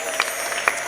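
Brief burst of church audience applause at a women's convention, a dense patter of clapping with a couple of sharper claps standing out.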